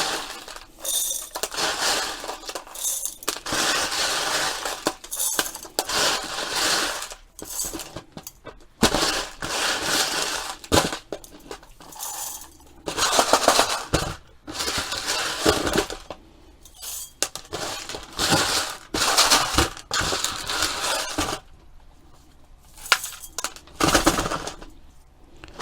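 Colomi clay granules are poured back into a glass orchid pot. Loose pellets rattle, clink and crunch against the glass in long bursts with brief pauses between pours, close and fairly loud, with no talk.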